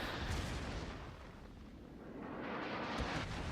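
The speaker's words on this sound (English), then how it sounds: "I'm firing at the Prince Eugen when I have the chance" Naval gunfire from the cruiser Kutuzov in World of Warships while it shells the Prince Eugen: dense, continuous booming roar with heavy low rumble, swelling again near the end with a sharper report, loud and with no talk.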